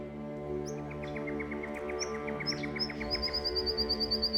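Several birds chirp and tweet in a macadamia orchard in the early morning, with short repeated high calls and a faster trill toward the end, fairly near over a steady low background hum.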